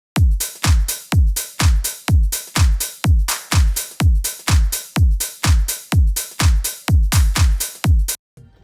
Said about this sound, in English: I just did a basic 4 on the floor, just disco house drum pattern,